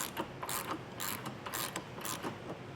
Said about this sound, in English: These are kind of hard to break loose, so I did get a longer wrench here.